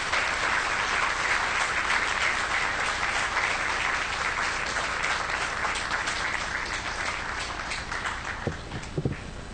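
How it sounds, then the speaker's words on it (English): An audience at a church gathering gives a long, steady round of applause, thick clapping filling the room evenly before thinning out toward the end into a few scattered claps. "So let's give a round of applause to True Parents and to Kook Jinim."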